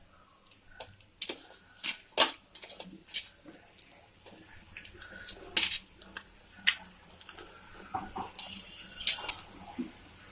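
Cooked coconut milk paniyaram lifted out of a paniyaram pan with utensils, giving a run of light metallic clinks, taps and scrapes at an uneven pace, close by and fairly quiet, with no voices.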